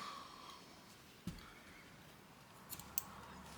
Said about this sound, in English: and snip the end.